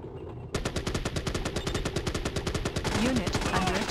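Twin machine guns blaze in the Warzone 2100 strategy game, a rapid, steady stream of evenly spaced shots that starts abruptly and runs unbroken to the end, loud and close.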